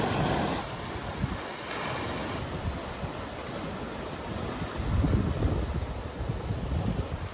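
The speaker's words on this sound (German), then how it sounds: "Wo gestern Abend keine Welle zu hören war und das Wasser glatt wie eine Wand zu sein schien, schäumt es am Morgen darauf wild vor sich hin." Mediterranean sea waves foam and wash onto the shore in the morning, a continuous rushing surge with wind buffeting the microphone, swelling louder toward the end.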